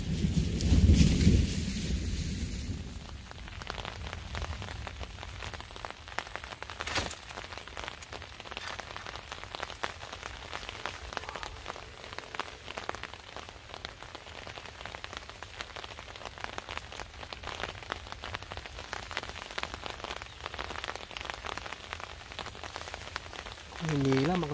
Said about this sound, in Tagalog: Umuulan na nga mga kabingwit eh.